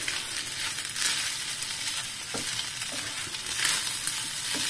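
Fish frying in toasted sesame oil gives a steady, bright sizzle and crackle up close, with a few soft stirring knocks and no talk.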